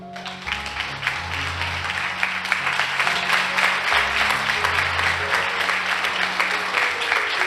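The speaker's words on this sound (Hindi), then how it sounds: "तालियां बजाइए।" Church audience applauding during a sermon on fasting and prayer, sustained dense clapping at moderate level, steady from start to finish over a low background music tone.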